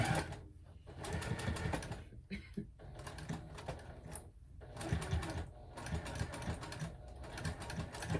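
A sewing machine stitches slowly through a thick clutch bag and its interfacing, in bursts of rapid mechanical clatter with short pauses between runs, close up and without talk.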